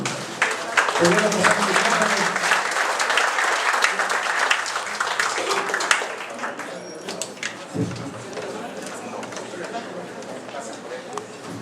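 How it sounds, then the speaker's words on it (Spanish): Loud applause fills a lawyers' association hall for a speaker at a governor's press conference, the clapping strong at first and then thinning into scattered claps before fading. "Pido un fuerte aplauso al licenciado Fidel."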